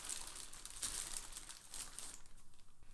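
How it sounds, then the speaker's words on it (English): A plastic bag crinkles close up as it is pulled over wet paint brushes, a dense crackling rustle that softens and thins out toward the end. "I just cover them with a plastic bag,"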